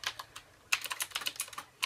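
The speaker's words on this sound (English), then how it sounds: "I am going to love typing" Typing on a Qwerkywriter S keyboard: a quick run of crisp, close clicky keystrokes in irregular bursts, a few louder strikes standing out, with no talking.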